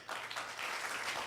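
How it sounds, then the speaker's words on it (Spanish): A church congregation claps during a Sunday service, a brief, dense burst of many hands, steady and moderately faint, with no talking over it. "Y yo le voy a pedir que se dé un fuerte aplauso."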